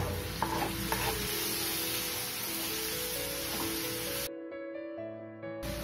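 Tomatoes sizzle in a frying pan as they are stirred, a steady close crackle with occasional scraping that cuts off abruptly near the end, with no talking.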